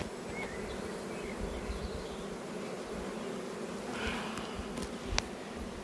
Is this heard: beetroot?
no